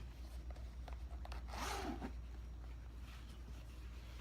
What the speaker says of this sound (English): the zipper goes all the way down, so it's easy in and out